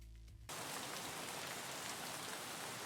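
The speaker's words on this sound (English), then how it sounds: "Didn't realize it was raining" Rain pours in a game raid deployment on Shoreline, arriving suddenly after a brief quiet lead-in and then continuing as a dense, steady hiss of drops.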